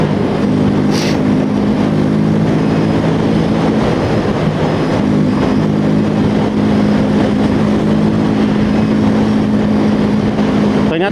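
A Yamaha Jupiter Z1 motorcycle engine pulls steadily while riding at speed, a loud continuous drone with steady harmonic hum and heavy wind rush throughout, no talking.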